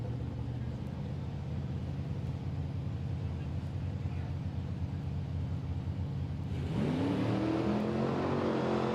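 Super Pro dragsters idling on standby at a drag strip, a steady low engine rumble throughout, with a louder engine rising in pitch as it revs near the end.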